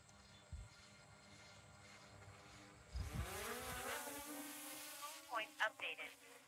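A small drone spins up and lifts off, a rising broadband whir with climbing harmonic tones that starts faintly and grows louder and steadier, with a few sharper bursts near the end; a voice speaks briefly underneath.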